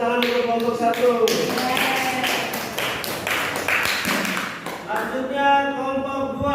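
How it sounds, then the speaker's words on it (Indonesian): A classroom group finishing a presentation on the Prophet Muhammad's preaching in Makkah gets a short burst of clapping from students, with voices talking over it throughout. "beri tepuk tangan untuk kelompok 1"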